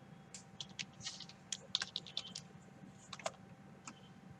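Password typed on a computer keyboard to log into a cloud server, a quick irregular run of light key clicks with short pauses between bursts, close and fairly quiet.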